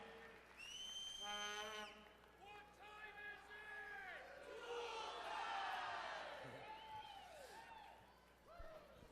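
A hall of fame crowd cheers and whoops for Pat O'Toole, sustained and fairly distant, with whistle-like shouts and a voice rising above the noise at the start.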